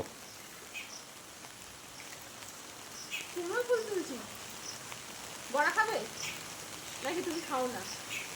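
Soft rain falls over a garden in a faint, continuous hiss, while a few brief voices or calls rise and fall above it.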